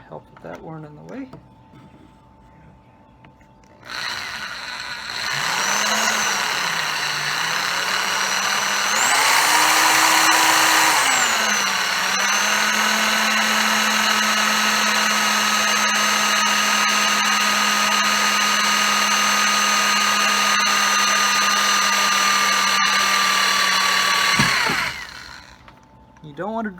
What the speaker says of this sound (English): Okay, so I drilled my hole all the way through the fitting and the inner barrel.